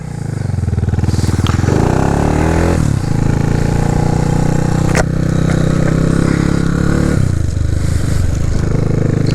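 A Honda Grom motorcycle fitted with a utility sidecar, carrying an oil cooler, oil filter and battery as ballast, rides along with a steady, loud engine drone. The engine rises in revs and shifts pitch several times, with a brief clatter partway through.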